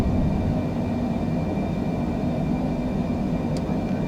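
Steady, loud airplane engine roar at takeoff rotation in Microsoft Flight Simulator, a continuous broadband drone holding level for the whole stretch with no talk over it.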